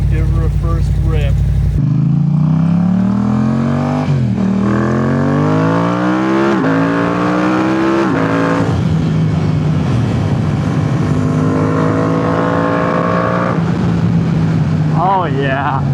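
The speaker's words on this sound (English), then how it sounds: "Oh my god, the pops and bangs is so fucking amazing." A Yamaha R7 with a stage 2 tune and TST Worx airbox revs hard through several rising gear pulls, loud and close, with throttle-off crackle and popping from the exhaust between shifts.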